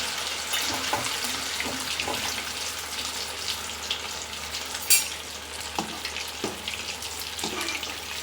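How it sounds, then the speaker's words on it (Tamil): Rice vadas bubbling and sizzling in hot oil, a steady crackling fry close by with a few small clinks and taps scattered through it. "இது நல்லா பொரியட்டும்"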